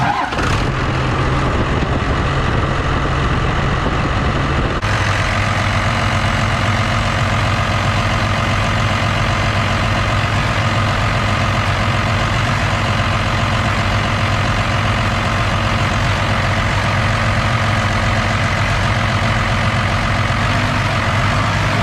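A 12 valve Cummins diesel truck engine idles at a slightly raised idle, a loud, steady close-up clatter and drone that shifts in tone after a few seconds and then runs evenly throughout.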